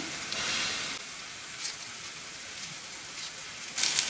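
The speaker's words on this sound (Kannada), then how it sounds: "ಎಣ್ಣೆ ಸಾಸಿವೆ ಮತ್ತು ಸ್ವಲ್ಪ ಜೀರಿಗೆ ಈರುಳ್ಳಿ ಹಾಕ್ಕೊಂಡು ಚೆನ್ನಾಗಿ ಫ್ರೈ ಮಾಡ್ಕೊತಾ ಇದ್ದೀನಿ" Onion, mustard seeds and cumin fry in oil with a soft, continuous crackling sizzle, broken by a few sharper pops and spatters, with no voices.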